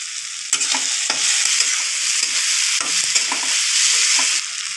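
Asafoetida hitting hot oil in a pan while tempering moong dal, a loud continuous sizzle with intermittent stirring scrapes, close and alone.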